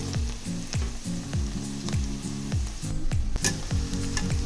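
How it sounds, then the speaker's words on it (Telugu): Bitter gourd pieces fry in a pan while being stirred, a continuous sizzle overlaid with repeated rhythmic scraping strokes of a spatula, close and clear, with no voices. "కాకరకాయలు మాడిపోకుండా ఎవ్రీ 5 మినిట్స్కి ఒకసారి కలుపుతూనే ఉండండి."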